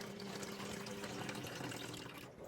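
Water running and draining steadily from a faucet while rice is washed in a kitchen, a faint, continuous splashing gush that carries on unbroken; no talk.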